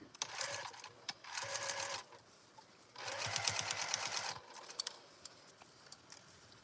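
A sewing machine stitches a fabric microwaveable bowl cozy in close, rapid bursts of mechanical clatter, running in several short runs separated by quiet pauses.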